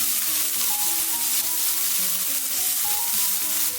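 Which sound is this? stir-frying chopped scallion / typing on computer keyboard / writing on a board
stir-frying chopped scallion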